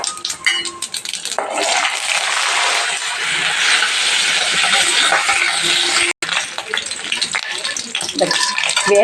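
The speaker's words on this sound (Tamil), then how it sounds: "இப்போ நான் கடுகு போட்டுக்கிறேன். அதோட உளுத்தம் பருப்பு, கடலை பருப்புங்க." Mustard seeds, urad dal and chana dal fry in hot oil with a loud, steady crackling sizzle, broken by a few clinks of a spoon against the pan, close up while someone talks.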